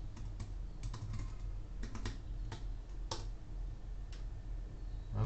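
Typing on a computer keyboard produces close, crisp key clicks in uneven bursts over a low steady hum, with no voices.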